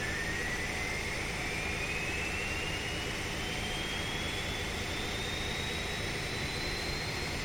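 Boeing 737 Classic jet engines in a flight simulator game, a steady loud roar with a high whine climbing slowly in pitch throughout, no talk.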